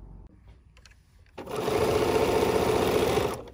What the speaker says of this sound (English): you're gonna sew one of these triangles onto each side of the square